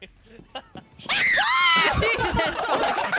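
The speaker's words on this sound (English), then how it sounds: "That scream!" A loud, sustained scream bursts out after a second of quieter voices, its wavering pitch rising and falling over about two seconds before breaking into ragged cries and overlapping chatter during a live stream.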